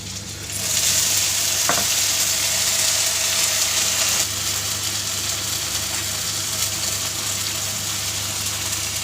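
Ground ginger, coriander, cumin and dry chilli masala fries with chopped onion in a pan, a loud, steady sizzle that starts after a brief pause and holds throughout, with a faint stirring scrape.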